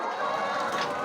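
Laying hens clucking inside a poultry farm house, a dense, steady chorus of many birds close by, with no talk over them.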